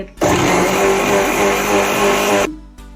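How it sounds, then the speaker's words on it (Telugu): A kitchen mixer grinder whirring loudly as it grinds bread with rice flour for a bread dosa batter, a steady high-speed roar lasting a couple of seconds before cutting off, close and without talk. "ఇది రెండు కలిపి ఇప్పుడు మిక్సీ"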